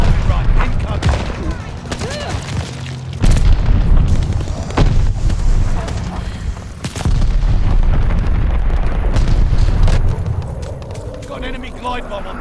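Heavy bombing-run explosions rumble and boom repeatedly across a Call of Duty: Vanguard multiplayer Domination match on the Oasis map, with several loud bursts and dense fusillade-like blasts and gunfire throughout, mixed with game voice callouts.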